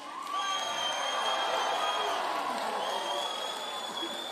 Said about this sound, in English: Now, one thing that our people have become accustomed to is loud and thunderous applause.